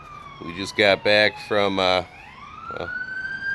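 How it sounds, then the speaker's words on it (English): A police car siren wails as it passes, its rising and falling tone carrying over someone talking, then fading into steady outdoor background noise. "sorry, we got a police car going by."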